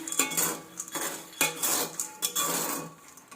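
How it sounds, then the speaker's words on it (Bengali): Peas dry-roasting in hot sand in a pan, a gritty scraping and rattling of sand and metal that comes in repeated loud strokes, close by with no voices. "চলো মটরগুলোকে ভেজে নিচ্ছি"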